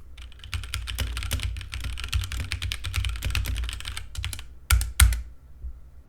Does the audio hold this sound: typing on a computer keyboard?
yes